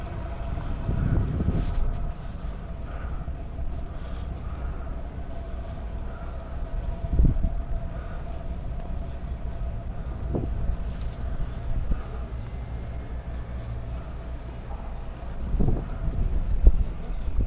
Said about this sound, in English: A bit breezy and a bit chilly today.